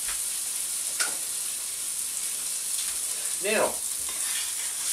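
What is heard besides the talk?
chicken and chorizo in spicy sauce simmering in pan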